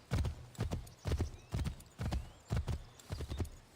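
Horse hooves clip-clop in Assassin's Creed 3, a steady, close series of paired hoofbeats at an unhurried walking pace, with no talk over them.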